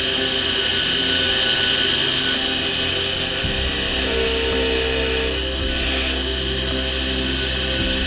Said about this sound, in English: I want to come in at a slight angle with my original cutoff tool